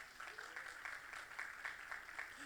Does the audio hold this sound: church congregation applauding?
yes